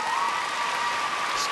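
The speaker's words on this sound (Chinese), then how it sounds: "掌声鼓励。" Sustained applause from an audience at the 23rd Golden Melody Awards ceremony fills the hall, dense and loud throughout, with a faint steady tone beneath.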